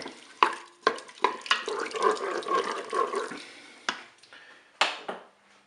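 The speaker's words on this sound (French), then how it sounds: "Je mélange." Peeled tomatoes and broth being stirred in a Cookeo multicooker pot, with wet sloshing and scraping between several sharp clanks of a utensil against the pot, fairly close.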